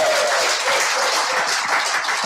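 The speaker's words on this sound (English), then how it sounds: "She needs a lot of claps." Audience applause fills a meeting session, a steady dense wash of clapping from a crowd, loud and continuous with no talk over it.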